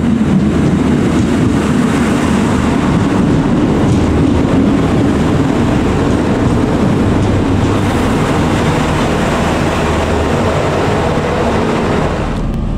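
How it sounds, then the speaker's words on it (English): Onboard ride on train set 3019 heading to Belfast, a loud continuous rumble of wheels and carriage with faint rhythmic track clatter, steady throughout with no speech. "So now we're going to head into Belfast on this train here"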